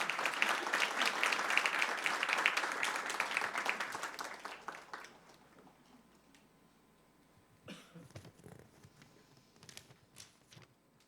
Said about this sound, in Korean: 오실 때 한번 박수 한번 보내주시기 바랍니다